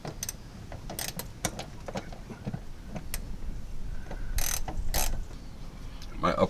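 A ratchet clicks in short, close bursts while tightening the nut on a front Bilstein 4600 shock of a 2004 Suburban, with metallic scrapes and clunks between strokes and no talk.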